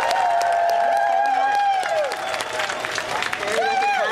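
Crowd applause and cheering at an outdoor pride march gathering in a park, dense clapping mixed with whoops and voices, while a person talks over the noise.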